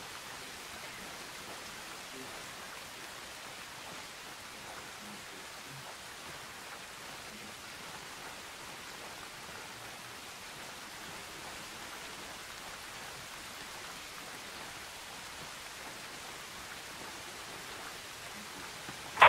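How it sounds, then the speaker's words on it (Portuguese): Steady rain falling in a military shooter video game, Tom Clancy's Ghost Recon Breakpoint, a constant even hiss of moderate loudness throughout with no voices. "Tá chovendo aqui."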